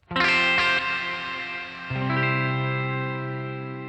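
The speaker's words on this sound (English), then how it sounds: "you have this weird, like moving, modulated reverb kind of sound going on" Electric guitar chords ring out through a Headrush Spring Guru spring reverb pedal's wavering, modulated reverb, the tails shimmering and sustaining; a second chord is struck midway and rings out.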